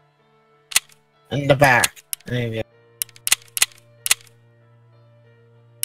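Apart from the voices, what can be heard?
gunshots in Escape From Tarkov video game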